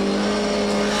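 An MGB race car at Donington Park circuit howls at high revs near top speed, a loud sustained engine drone running steadily on its own without any voices.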